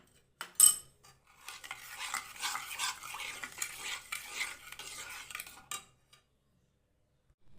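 Spices being stirred and mixed in a pan for koi fish patori, a steady run of scraping, clinking spatula strokes against the metal for several seconds, close and moderately loud, with no talking.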